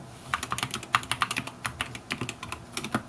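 Keys clatter on a computer keyboard in a quick irregular flurry of close, crisp taps, alone without talk.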